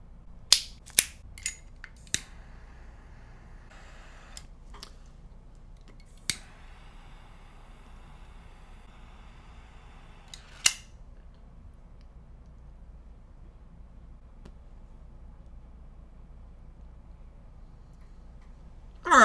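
Cigar tip snipped with a cutter, then a lighter struck and flame held to the foot, heard as a few sharp close clicks and snips in short succession followed by a soft hiss, then quiet.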